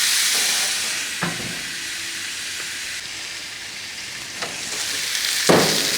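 Pork chops sizzling on a closed grill, a steady bright hiss of fat and juices with occasional sharper crackles and pops rising above the constant frying noise, close and fairly loud with no talk.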